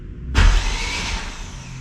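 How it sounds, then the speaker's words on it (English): A Honda Civic Type R engine, built up for all-wheel drive, cranks over with spark plugs out and fuel disconnected: a sudden whirring starter-driven spin-up that holds steady for over a second, close and loud. "I guess we're cranking it over."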